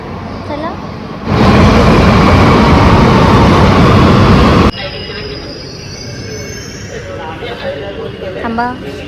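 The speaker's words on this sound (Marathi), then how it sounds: "आपण सिद्धिविनायक मंदिर मेट्रो रेल्वे स्टेशन मध्ये आलेलो आहोत" A metro train rushes through the underground Siddhivinayak station in Mumbai, a loud, dense roar lasting a few seconds with wheel squeal. It then fades into station ambience with people talking.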